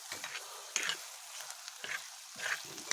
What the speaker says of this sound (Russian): Вот она как тушится.